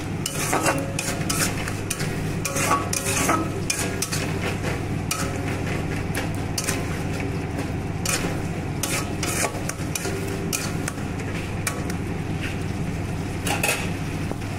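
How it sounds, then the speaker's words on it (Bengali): Masala with turmeric and salt being sautéed for katla kalia, a continuous run of brisk spoon scraping and clinking against the pot over a low sizzle. "একটু হলুদ দিয়ে দিই, একটু লবণ দিয়ে দিই, আর আবার ভালো করে কষিয়ে নেব এটা"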